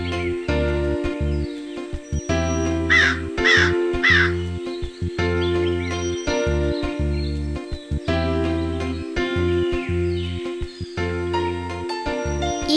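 Cartoon crows caw repeatedly in a Kannada children's animation, sharp harsh calls in short bursts over continuous playful background music.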